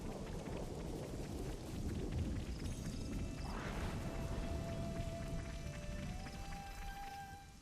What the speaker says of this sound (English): Is this gonna be another point in time where rain is really important?